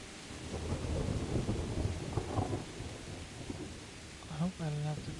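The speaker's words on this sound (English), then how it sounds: "it rains a lot in this game" Rain and rolling thunder in the medieval video game Kingdom Come: Deliverance, a steady heavy downpour with low rumbles throughout and a short tonal in-game sound near the end.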